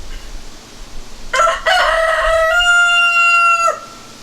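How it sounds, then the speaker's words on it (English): A rooster crows once, fairly close and loud, with a long drawn-out final note, amid outdoor wind rumble on a property with chickens all around. "Got chickens everywhere."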